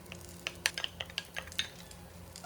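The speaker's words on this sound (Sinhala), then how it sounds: "දැන් මම මේකට බිත්තර ටික එකතු කරනවා." Eggs go into a pan of thin vermicelli noodles, giving faint scattered clinks and light stirring scrapes over a soft, quiet sizzle.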